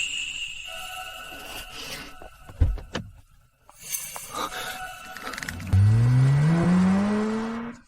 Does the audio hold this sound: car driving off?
yes